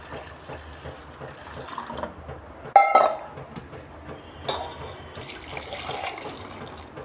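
Tea is poured back and forth between two vessels to make it strong, giving a close, splashing liquid stream with a few sharp clinks of metal, and no talk.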